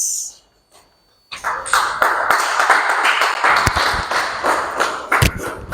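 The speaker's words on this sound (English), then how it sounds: "Can you please give him a round of applause again?" After a moment of quiet, applause from the audience at a talk event breaks out and holds steady and full, with sharp individual claps standing out until the end.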